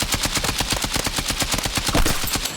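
Rapid automatic gunfire from a first-person shooter video game, with a weapon fitted with KTS attachments firing a dense, continuous stream of close, loud shots while strafing, with no talking.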